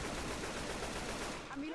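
Rapid automatic gunfire from the video game Left 4 Dead 2 rattles continuously up close in a dense burst that tapers just before the end.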